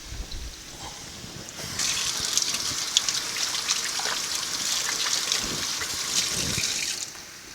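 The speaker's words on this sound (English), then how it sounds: "Always washing our hands while we cook." Running tap water gushes into a kitchen sink as hands are washed during cooking, a steady close splashing stream with small shifts as the hands move under it.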